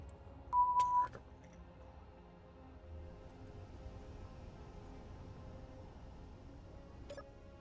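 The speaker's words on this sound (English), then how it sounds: "Your battery level will be low on the next beep." A short electronic warning beep sounds as a low-battery alert in the survival game Space Engineers, one steady tone early on with a fainter blip near the end, over a quiet humming background.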